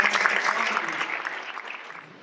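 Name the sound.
audience applause after a startup pitch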